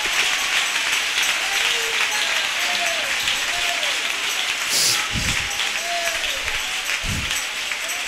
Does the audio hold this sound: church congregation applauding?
yes